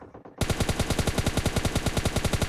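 Sustained automatic gunfire from a spray in the mobile battle-royale game PUBG Lite, a loud rapid stream of regular shots following a short quiet start, with no talking.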